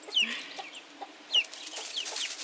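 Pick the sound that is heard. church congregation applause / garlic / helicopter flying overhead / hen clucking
hen clucking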